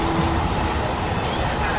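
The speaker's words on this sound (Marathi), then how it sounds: "आम्ही ट्रेनमध्ये बसलो आणि मग नंतर घरी यायसाठी निघालो" A passenger train runs steadily on rails, a continuous dense rumble heard from inside the carriage without a break, after a palanquin procession on a pilgrimage day.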